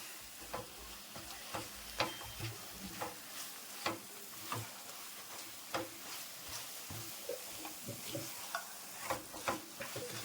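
Wheat halwa being stirred in ghee in a pan, a steady sizzle and fry under a regular rhythm of scraping spoon strokes, close and fairly quiet, with no talking.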